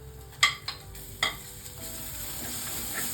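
Ginger garlic paste and chopped onions fry in hot oil with a steady close hiss, broken early by a few sharp spoon clicks against the pan.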